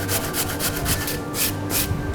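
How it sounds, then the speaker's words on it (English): Half a Bramley apple is grated coarsely, a rhythmic rasping rub repeating in quick even strokes, close and steady, with no voices. "I've got half an apple here, and first things first I'm going to grate it coarsely"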